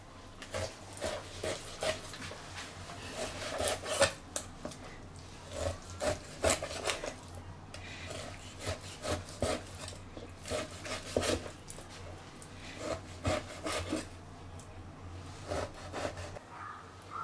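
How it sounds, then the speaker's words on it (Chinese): A knife cuts pork into small chunks for dumpling filling in a home kitchen, producing repeated rubbing, scraping strokes in uneven bursts, fairly quiet and close with no talk. "我要肉先给它切成小块。"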